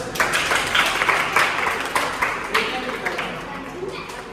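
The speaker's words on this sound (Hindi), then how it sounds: "इसके लिए ताली बजाओ।" Students clapping during a school fire-fighting awareness session, a dense burst of hand claps with distinct individual slaps, loud and near at first and then thinning slightly as it continues.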